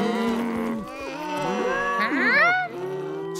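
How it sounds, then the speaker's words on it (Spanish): Scottish Highland cattle moo in a cartoon scene, several deep, drawn-out overlapping lows with rising and falling pitch, loud and close, one call swelling higher near the end. "¡Son solo vacas! ¡Y son vacas escocesas!"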